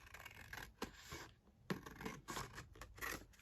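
Scissors snip and rasp through paper for a handmade craft bellyband, a close, quiet run of short cutting strokes with brief pauses between them.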